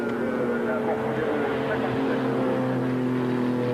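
Porsche GT race car engine in the 1995 BPR Global GT Series at Linas-Montlhéry, going round the banking on a final lap: a steady, loud droning engine note held throughout, with commentary talk over it.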